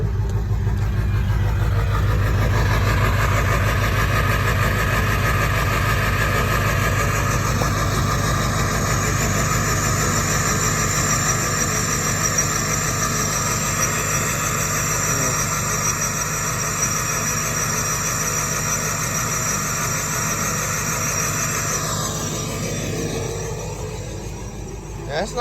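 2000 Ford F-250 with a 7.3 Powerstroke diesel, straight pipe and lope tune, idling after a cold start: a loud, steady, rumbling drone close by, holding for the whole stretch and easing slightly near the end.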